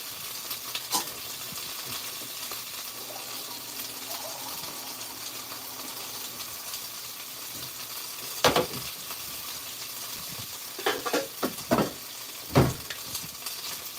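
Food fries in a pan with a quiet, continuous sizzle, broken by a few sharp pops and clinks of utensils, and no one speaking.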